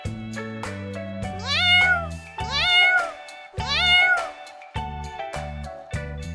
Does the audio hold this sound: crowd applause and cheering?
no